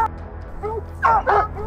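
Trained hunting hounds used for tracking mountain lions in Florida give a few short, yelping barks and whimpers over a steady low background rumble, fairly close and clear.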